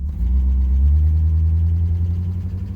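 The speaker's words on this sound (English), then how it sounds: "Car seems to be running decent." A 1986 Cutlass with a worn 260 engine runs at idle, giving a steady, loud, close low rumble with no talking.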